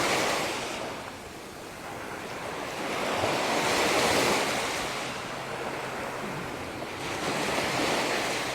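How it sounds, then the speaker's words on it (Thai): Sea waves wash onto Hat Phala beach at Ban Chang, Thailand, in the evening: a continuous loud roar of surf that swells and eases in slow surges, mixed with wind buffeting the microphone and no talk. "ท่านไหนที่ไม่เคยมาก็ลองมาชมบรรยากาศทะเลที่บ้านฉางดูนะคะ"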